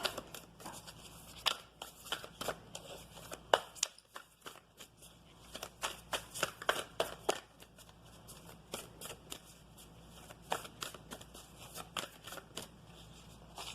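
Oracle cards are shuffled close up in a quiet room, a run of crisp riffling bursts and soft slaps repeating irregularly with brief pauses between them.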